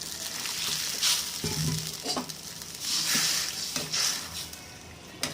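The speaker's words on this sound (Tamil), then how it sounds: "குழம்பு கொதிச்சுக்கிட்டு இருக்குது" Steady bubbling and sizzling from a pot of sardine fish curry on the stove, with occasional stirring and soft clinks of utensils, no voices.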